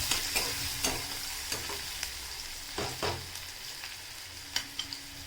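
Onion sautéing in a pan for a Konkan-style padwal (snake gourd) bhaji, a steady close sizzle broken by repeated scraping stirs of a spatula against the pan, with no talking.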